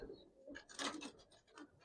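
Giribaz pigeons kept on a rooftop coo softly in several low, rolling calls, faint and close together, with no talking over them.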